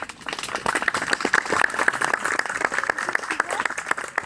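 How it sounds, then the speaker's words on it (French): An outdoor audience claps for costumed participants in a Breteuil 1900 costume parade, dense continuous clapping from many hands at close range, with some voices mixed in. "on peut les applaudir bien fort."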